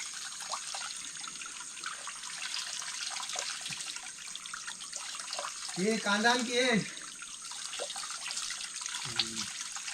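Mountain spring water in a Kokan village flows in a steady, close broadband rush throughout, with a person talking briefly in the middle and a short voiced sound near the end.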